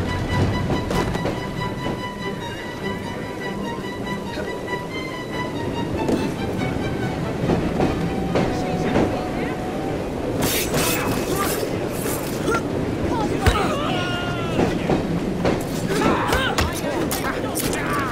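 A train runs along rails in the video game Assassin's Creed Syndicate, with a continuous rumbling, clattering mechanical roar and occasional sharp metallic bursts across the whole stretch.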